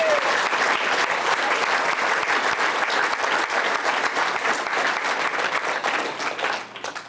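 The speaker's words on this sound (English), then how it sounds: "let's give them a big round of applause" Steady, loud applause from a banquet audience at a 2001 Redskins football team banquet, dense clapping filling the room for about seven seconds before starting to thin at the end.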